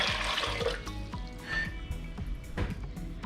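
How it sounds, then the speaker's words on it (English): Water poured into a cooking pot on the stove, the start of a sugar syrup for a Guyanese festive dish, a close, continuous splashing pour that rises and falls over a few seconds. "I'm going to add in my water"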